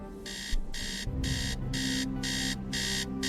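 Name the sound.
alarm clock beeping in the video game Tales of the Neon Sea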